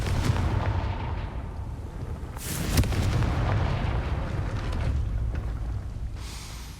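A Confringo spell blast in the Hogwarts Legacy video game sets off a loud explosive boom with a rumbling burst, heard over continuous game ambience and without speech.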